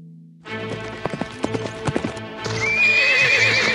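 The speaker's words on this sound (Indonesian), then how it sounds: "Itu kuda sang putri." A princess's horse in a fairy tale comes back alone, hooves clip-clopping in an uneven run before a loud, drawn-out neigh rings over continued hoofbeats.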